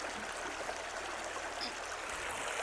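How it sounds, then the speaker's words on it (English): A fast-flowing stream rushes steadily outdoors, a broad constant hiss and gurgle of water close by, with no voices. "we're gonna come over to where this stream is flowing quite quickly"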